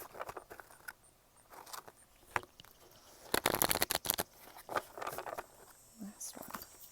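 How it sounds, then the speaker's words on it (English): Tarot cards are shuffled in short riffling bursts, close and fairly soft, with a louder flurry in the middle and a voice speaking quietly between shuffles. "2 more shuffles here."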